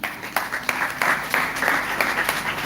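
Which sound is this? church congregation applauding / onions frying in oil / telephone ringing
church congregation applauding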